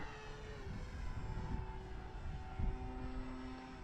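A Dancing Wings Hobby Stick 14 RC model airplane flies overhead with a steady, moderately loud buzzing propeller drone that holds through the whole stretch, rising slightly as it passes.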